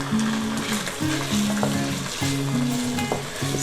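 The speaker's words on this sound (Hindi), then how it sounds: "कीमे को हम अदरक लहसुन पेस्ट में भून रहे हैं।" Minced mutton keema frying in ginger garlic paste in a pan, loud continuous sizzling close up with occasional stirring scrapes, heard alone without any talk.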